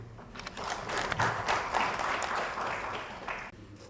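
An audience applauds the chief guest at a university golden jubilee conference, a swelling burst of clapping that builds, holds, then tapers off, moderately distant.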